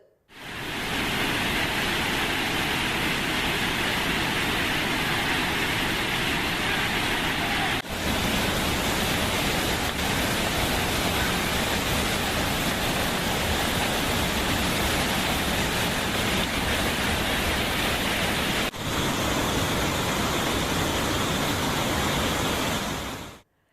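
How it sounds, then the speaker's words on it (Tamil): Hogenakkal waterfalls on the Kaveri river in flood, a loud, steady, broadband roar of crashing water that carries on without a break and with no voices over it. "அங்குள்ள அருவிகளில் வெள்ளம் ஆர்ப்பரித்து கொட்டுவதால்"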